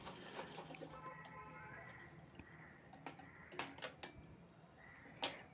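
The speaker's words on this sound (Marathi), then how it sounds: "दुसरी बाजू तशीच शिवायची आहे." Sewing machine stitching a fabric pouch, a quiet close rattling whir with short mechanical clatters and a few louder knocks toward the end.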